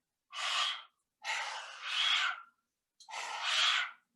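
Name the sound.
mouth breathing during yoga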